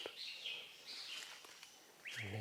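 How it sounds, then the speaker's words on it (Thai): Several birds chirp and trill in a deep forest in the hills, thin high calls repeating through a quiet background with soft footsteps or rustling, distant and faint. "เสียงนกร้องเต็มเลยทางนี้"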